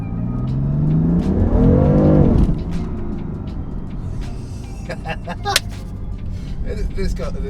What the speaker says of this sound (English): Let's just floor it.